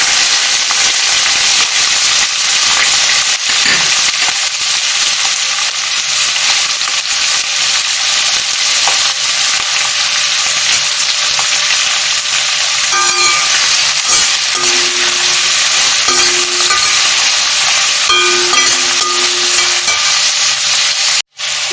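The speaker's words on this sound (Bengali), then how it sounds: "এবার আমি কোচানো পেঁয়াজগুলো এই কড়াইয়ের মধ্যে ঢেলে দিচ্ছি।" Sliced onions tipped into hot oil with whole spices in a kadai, a loud, dense, continuous sizzle that hisses steadily throughout, with faint intermittent tonal hums in the background.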